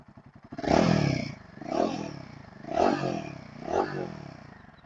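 Royal Enfield Himalayan 450 (2025) motorcycle engine revved four times in quick succession, each throaty swell rising and falling over a steady idle, loud and close with no talking.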